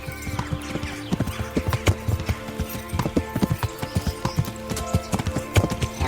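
A horse gallops in the medieval game Kingdom Come: Deliverance, with steady, loud, close hoof clip-clops in a fast rhythm and an occasional snort or whinny.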